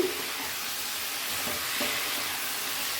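Mixed winter vegetables sizzle softly in a pan as a spoon stirs them, giving a steady frying hiss with a few faint scraping touches, close and without speech.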